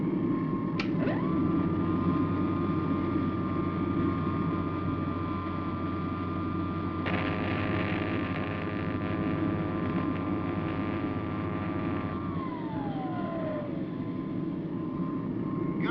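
Supercar, the fictional aircraft from a puppet TV show, taking off, with a steady whining engine tone that rises into a louder roaring boost and then winds down with a falling pitch.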